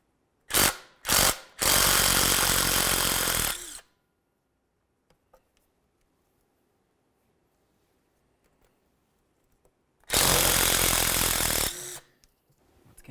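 A power tool whirs in loud bursts as 10mm bolts come out of the timing cover of a Dodge Journey. There are two short blips, then a sustained run of about two seconds, a quiet pause with small clicks, and another long burst, all close up.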